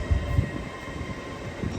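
A train rumbling at a British railway station platform, a steady low mechanical drone with a couple of brief thumps near the start and no voices.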